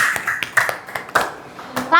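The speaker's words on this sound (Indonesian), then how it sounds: "Tepuk tangan." Sparse, uneven clapping from a small classroom audience after a group presentation, a handful of separate hand claps close by with light chatter around them.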